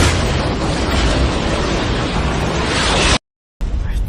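A huge explosion from a falling clock-tower pillar in the Attack on Titan live-action film: a loud, dense roar that holds steady for about three seconds, then cuts off abruptly before a quieter sound returns.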